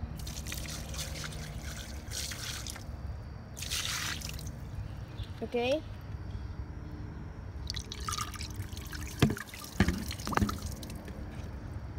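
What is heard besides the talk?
water bucket flush of a 3D printed toilet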